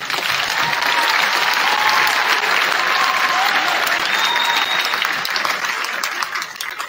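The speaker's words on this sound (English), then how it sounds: "one more round of applause for yourself" Audience at a hometown heroes award ceremony gives a sustained round of applause, dense clapping that builds and holds for several seconds before tapering off.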